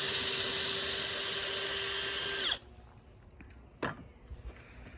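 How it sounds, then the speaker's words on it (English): A power drill whines at high speed for a couple of seconds boring an angled hole, then winds down and stops, followed by a short knock and quiet handling noises. "it allows him to drill an angled hole"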